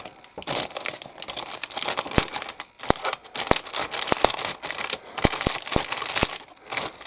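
Resealable plastic bags holding the parts of a 1/48 scale F-14D model kit crinkle close up with loud, irregular rustling and sharp snapping clicks.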